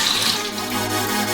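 Milk pours steadily into a bowl while dough is being prepared, giving a continuous splashing liquid rush that stays fairly loud and even throughout.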